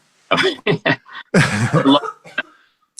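A few short coughs and throat-clearing sounds come in quick bursts, close up, followed by a faint brief sound.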